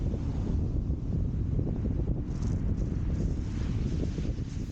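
Onshore wind blowing steadily across Chesil Beach at Ferrybridge, a constant loud rumbling buffet on the microphone with a faint hiss above, continuous and unbroken with no voices.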